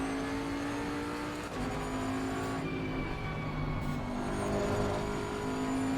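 Race car engine in the Live for Speed racing game, droning steadily with pitch rising and dropping through gear changes, loud and close with no talk.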